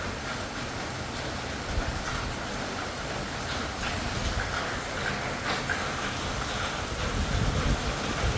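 Heavy rain pours down in a dense, constant hiss that stays loud and unbroken, with no voices heard.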